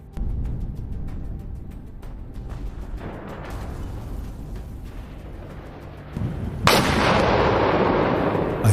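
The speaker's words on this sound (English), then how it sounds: "A huge explosion follows, another enemy launcher eliminated" An FPV drone strike on a Russian launcher sets off a heavy explosion, heard as a deep, rumbling blast that rolls on, followed by a second, louder, sharper burst near the end.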